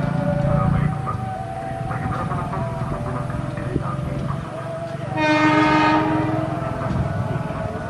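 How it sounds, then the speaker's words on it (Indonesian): A Pasundan train locomotive departing a station in Indonesia, a heavy low rumble of rolling stock with a loud horn blast midway, while someone talks over it. "Lokomotif ini bakal berangkat lagi nih kawan."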